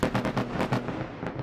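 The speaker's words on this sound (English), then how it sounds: "More Israeli airstrikes," Rapid series of heavy blasts from Israeli airstrikes over Gaza, several dull booms about every 0.15–0.2 s forming a rolling, continuous barrage at moderate loudness with no voices.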